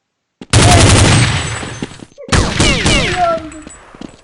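Gunfire in the video game Counter-Strike 1.6, loud dense bursts of rapid shots, a short gap, then more shots with ringing tails and sweeping effects.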